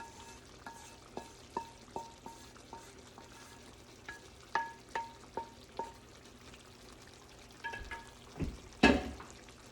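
Spinach cooks in melted butter in a pan, giving a quiet sizzle while a utensil clinks and taps as it is stirred, with a louder burst of sizzling near the end.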